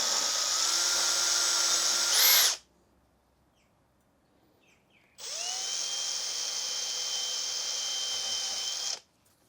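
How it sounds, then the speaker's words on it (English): Two long bursts of a high-pitched power drill boring 2mm holes in guitar binding, each running steadily for a few seconds with a quiet pause between them, close up. "Then we'll drill the actual 2mm holes required for the dots."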